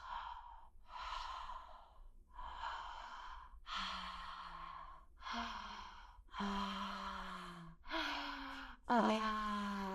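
A person breathes deliberately and audibly into the body as a tantra demonstration: a series of about eight slow, close breaths and sighs, growing louder and more voiced toward the end.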